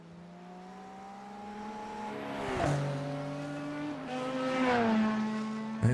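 Steady engine drone of a GT3 race car in the iRacing game, rising in pitch through the gears with two gear-change dips, loud and continuous with no voices.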